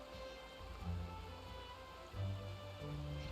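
Steady rain falling in a video game world, a soft continuous patter under faint background music tones, quiet and even throughout.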